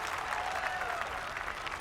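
Crowd applause on a golf course in EA Sports PGA Tour at Augusta, a steady patter of clapping at moderate distance, fairly quiet and even across the short stretch.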